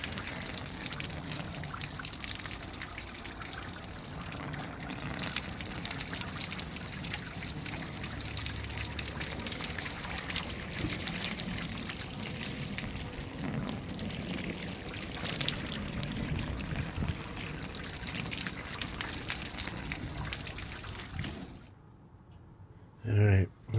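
Water pours and trickles steadily in through an open roof hatch of a van, a dense splashing wash that runs nearly unbroken for about twenty seconds, then drops away suddenly into quiet.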